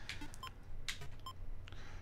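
Number entry beeps in the Mike Tyson's Punch-Out!! video game, a quick series of short electronic tones in an uneven rhythm over a low background hum.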